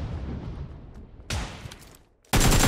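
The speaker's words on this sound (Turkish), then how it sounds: "Pompalı kullanıyor eleman gene" Shotgun blasts in PUBG during a tournament match, heard as a sharp broadband crack at mid-clip and a louder, sustained burst of gunfire at the end, with quieter battle noise between.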